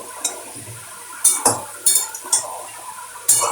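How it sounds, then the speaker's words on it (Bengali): Utensil scraping and clinking against a pan while prawn curry ingredients are mixed together, several sharp knocks spaced irregularly over a low background, fairly close and moderately loud. "এবার সবগুলো একসাথে মিক্স করবো"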